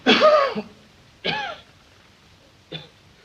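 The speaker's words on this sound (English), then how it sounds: "Suppose you wait till he quits coughing." A man coughs three times in the 1939 film Frontier Marshal, the first harsh and longest, then two shorter coughs spaced apart, close by with quiet in between.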